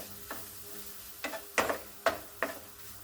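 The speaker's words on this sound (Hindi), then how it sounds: "बेसन को हम भून लेंगे टमाटर के साथ" A spoon stirs gram flour and tomatoes in a pan, giving several short scraping strokes over a soft sizzle, with quiet, irregular spacing and no talking.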